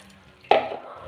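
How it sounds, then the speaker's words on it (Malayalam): Water poured into a hot cooking pot of jackfruit thoran with turmeric gives a sudden loud splash and sizzle midway, then fades to a soft simmering hiss. "മഞ്ഞപ്പൊടിയും കൂടി ഇട്ട് നമുക്ക് വെള്ളം ഒഴിച്ചു കൊടുക്കാം"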